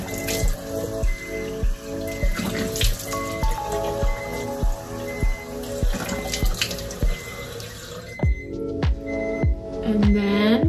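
Tap water runs steadily into a sink while something is rinsed, a close splashing wash under rhythmic background music, ending with a few trickling, gurgling drops.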